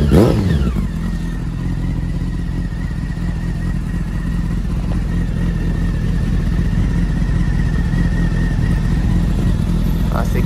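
A customized Honda CB 600 Hornet cafe racer motorcycle, recently started, idles loudly and close with a steady, rumbling engine note and mild revving throughout, under faint talk.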